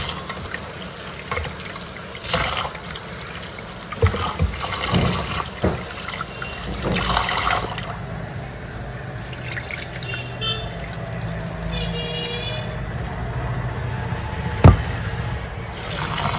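Rice is washed with water in a kitchen sink, country rice in a Bengali home kitchen: the tap runs, the water splashes and swishes in bursts, grains are stirred and rinsed, and a short sharp clack comes near the end.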